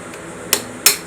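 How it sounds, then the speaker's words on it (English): Two sharp metal hammer blows, close and loud with a short pause between them, striking to drive the cam washer off the cam bolt on a Classic Mini engine during a rebuild. "driving the cab washer off the cam bolt"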